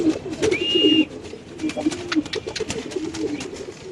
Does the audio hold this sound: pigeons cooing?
yes